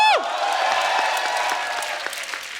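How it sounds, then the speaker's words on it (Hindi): Studio audience on a comedy talk show bursts into loud, sustained applause right after a host's cue, dense clapping that carries on at full strength and fades only slightly near the end. "तो आप सबकी जोरदार तालियों के बीच प्लीज वेलकम"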